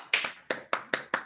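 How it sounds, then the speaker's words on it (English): Five distinct, sharp hand claps in an irregular sequence follow a presentation, fairly quiet and isolated, like one or a few people clapping. "round of applause for"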